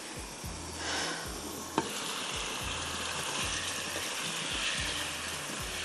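Chicken in achaar masala cooking in a pan, a steady close sizzle and crackle of frying with a soft low bubbling underneath and one sharp tap partway through.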